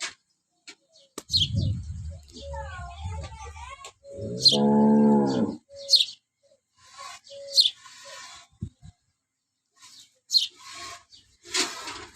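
A cow in good condition lets out a deep, drawn-out moo close by. Birds chirp faintly around it and quieter rustling fills the gaps.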